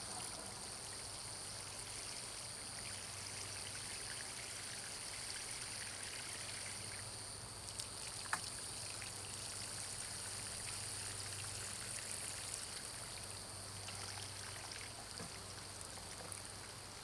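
Water pours from a watering can onto tomato cuttings, a soft, steady trickle that runs quietly and continuously with no talking over it.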